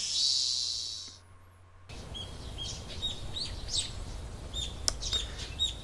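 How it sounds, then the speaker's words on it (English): Birds chirp in the Higurashi game's early-summer morning village scene, several short bright tweets scattered over a soft ambient bed, following a brief high tone at the start. "The chirping of birds served as my alarm clock"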